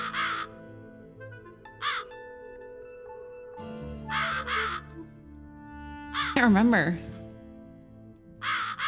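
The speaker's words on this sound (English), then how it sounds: "There's 2 bird sounds now." Crows caw in The Cat Lady video game, several harsh repeated calls in spaced bursts over a quiet eerie background, while a person talks briefly in between.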